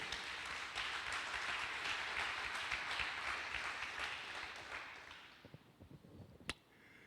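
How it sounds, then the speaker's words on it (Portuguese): A church congregation applauding after a sermon, sustained clapping that fades out toward the end, leaving a few scattered claps and one sharp final clap in a quiet room. "Dê um aplauso, amado, por essa palavra"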